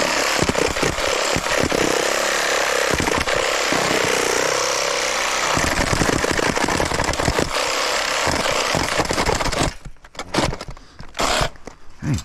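A power tool grinds loudly and roughly through aluminum on a scrap freezer, running in sustained harsh bursts with jittery pulses, then cutting out near the end into scattered lighter rattles.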